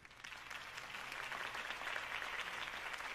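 Crowd applause from the Batman Telltale video game follows a campaign speech for Harvey Dent, a steady wash of clapping from a large audience at moderate distance, sustained throughout without voices.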